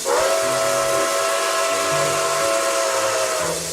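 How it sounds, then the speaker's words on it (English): Steam whistle of the Nickel Plate Road 765 locomotive in a video game, one long steady chime-like blast with hiss, held for several seconds and then cut off, loud and alone. "So without further ado, let's hear the whistle."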